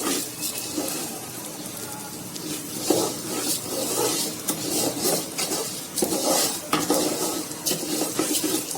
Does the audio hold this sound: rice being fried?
yes